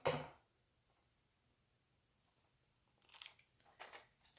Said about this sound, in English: Cut your extra pieces off here.